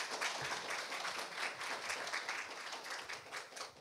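An audience at a public-private cooperation conference claps to welcome a presenter; brisk, moderately distant applause runs throughout, a little uneven in level.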